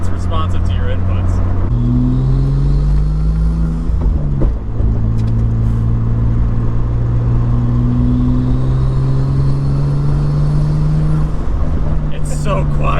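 An RB-engined Nissan Z, a Datsun with a Skyline engine, pulls at part throttle from inside the cabin, its low engine drone rising steadily with a gear change early on and again near the end.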